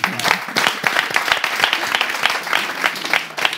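Studio audience applause on the French radio-style show Animateur 3.0, a dense, steady burst of many hands clapping close and loud throughout, with no talk over it.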